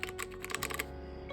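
Fingers type rapidly on an Evofox Katana Pro tenkeyless mechanical gaming keyboard with a metal top plate, a close burst of crisp clacking keystrokes that stops partway, leaving a faint hum and one last click.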